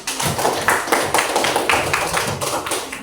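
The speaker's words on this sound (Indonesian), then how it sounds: "tepuk tangan dulu untuk kita semua" A classroom full of students clapping together, steady and dense for several seconds, moderately loud and close.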